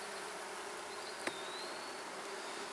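Soft, steady buzzing of honey bees around an open hive during beekeeping, continuous and moderately close, with one faint tick partway through.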